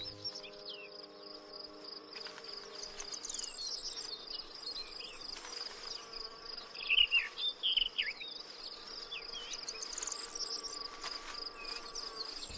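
Insects swarming spring flowers rich in nectar in a European landscape, a steady high buzzing and chirring drone with birds calling faintly behind it, moderately quiet and continuous.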